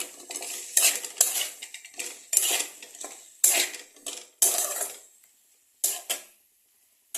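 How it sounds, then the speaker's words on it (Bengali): Chicken with turmeric and chili powder is stirred in a pan, giving irregular, close scraping and clattering bursts of a utensil against metal, with short quiet gaps and a faint sizzle underneath. "দিয়ে এটাকে এখন আমি ভালো করে আবার একটু কষিয়ে নেব।"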